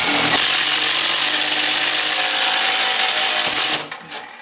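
A Milwaukee Shockwave thin wall hole saw cuts through metal with a loud, steady high-pitched grinding whine that runs for several seconds, then stops abruptly and leaves a few faint knocks.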